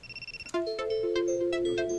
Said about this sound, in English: Ooh, a phone call coming in.